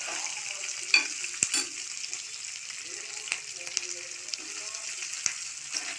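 Onions and seasoning stirred quickly in hot smoking oil in a pan, a steady sizzle broken by sharp scraping and clinking of the spatula throughout, with no talk.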